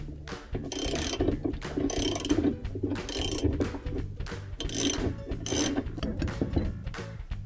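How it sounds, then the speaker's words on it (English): Ratchet on a long extension working loose the 7/16 agitator bolt inside a washing machine tub: repeated bursts of rasping, clicking ratchet strokes with a low rumble between them, close and continuous, no talk. "we'll need to loosen the agitator bolt, which is a 7/16 bolt. We're going to need our long extension to loosen that"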